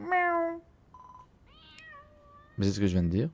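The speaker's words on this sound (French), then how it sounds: "Oh, c'est juste un chat." A cat meows in Dragon Quest Builders 2, with a clear meow at the start and a louder drawn-out one at the end, and a French-speaking voice in between.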